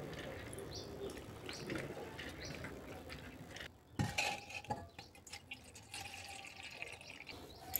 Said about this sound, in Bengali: এবার সাবুগুলোকে একটু ভালো করে 2-3 বার করে এভাবে চটকিয়ে সাবুগুলোকে ধুয়ে নেব।